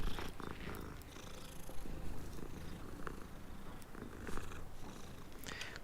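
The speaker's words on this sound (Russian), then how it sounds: "Какая хорошая киса." A cat purrs steadily in a Harry Potter-style video game, the soft rumbling purr running close and continuous under faint game ambience, with no speech.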